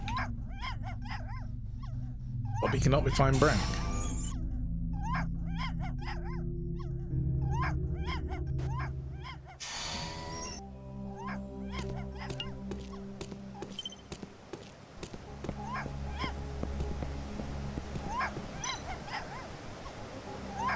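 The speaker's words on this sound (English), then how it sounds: "Poochie! Why are you barking?" A dog named Poochie barks repeatedly in a video game, sharp yips and whimpers in irregular bursts over ambient game music, with a brief spoken line in between.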